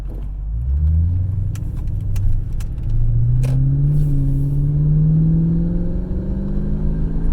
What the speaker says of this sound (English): Now I'm gonna drive this Lexus LS430.